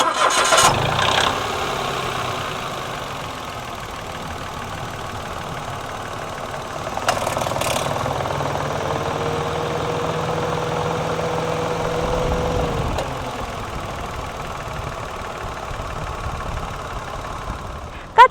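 A 2012 Mitsubishi Mirage 1.2 GLX engine cranks and catches, then settles into a steady idle hum; a brief clatter near the start and a click at the end.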